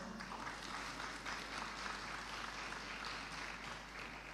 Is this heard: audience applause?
yes